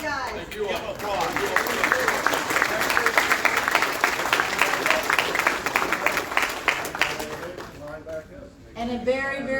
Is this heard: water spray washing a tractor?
no